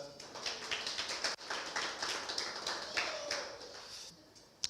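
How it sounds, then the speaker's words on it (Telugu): Church congregation clapping hands together, a fairly soft, dense patter of many overlapping claps continuing for several seconds before tapering off with a last sharp clap. "ఒకసారి గట్టిగా చప్పట్లు కొట్టొచ్చా?"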